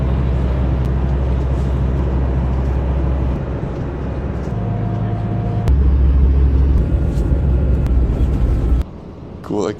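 A bus in Thailand drones with a steady low engine rumble from inside the cabin, with shifts in engine note and people talking over it.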